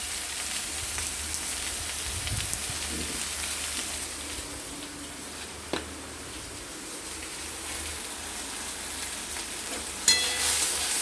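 Ginger paste, green chillies and cumin powder frying in a pan for a thin hilsa fish curry with potato and green banana, a continuous hissing sizzle like rain, with a couple of brief clicks of stirring.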